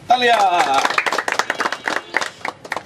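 Audience clapping breaks out at an entertainment show's food-eating contest, brisk uneven claps following a loud voice and continuing for a couple of seconds.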